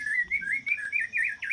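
A white-rumped shama chirps rapidly in a continuous, warbling run of bright notes, close and clear, with no other sounds.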